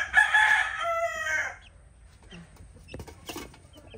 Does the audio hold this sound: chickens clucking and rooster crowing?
yes